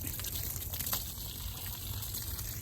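Water sprays and gushes steadily over an item as it is rinsed after power washing, a continuous close hissing rush with no voices.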